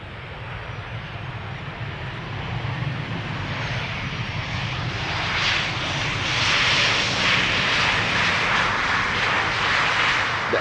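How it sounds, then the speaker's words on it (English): A KLM Boeing 737-800 jet airliner arriving at Amsterdam Schiphol Airport produces a broad, steady roar of engine noise that swells gradually louder, with no talk heard. "I'm arriving from London Heathrow, KLM flight 1002. Another 737-800"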